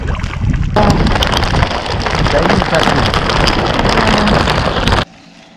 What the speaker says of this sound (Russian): Так, пошел дождик, ребята. Капает.